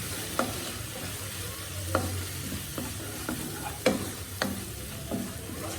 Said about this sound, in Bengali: এখন এই তেলের মধ্যে একটু লবণ আর 1 চিমটি পরিমাণ হলুদ দিয়ে সামান্য করে চিংড়ি মাছটাকে ভাজতে হবে।